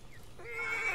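A skittish cartoon horse neighs once in a rising, shrill whinny that swells and holds near the end, close and clear without speech.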